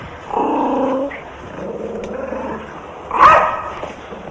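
Dog barking and growling close by, with a sustained growl-bark at the start, a softer rumble in the middle and a sharp yelp near the end.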